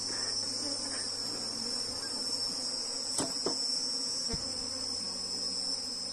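Honeybees buzz steadily around a wooden beehive box, a dense high drone that runs without a break, with a few soft knocks and handling sounds mixed in.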